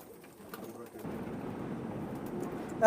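Pet pigeons kept for sale, including Teddy and Golden Tiger types, coo nearby in a soft, low, continuous murmur that swells after the first second and carries on steadily with no talking.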